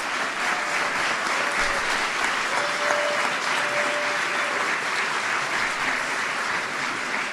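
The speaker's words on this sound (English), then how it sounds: "Give him a big round of applause." Large crowd applauding steadily for the Kansas City Royals team president at a White House welcome for the 2015 World Series champions, a dense, sustained wash of clapping with a faint tone running underneath.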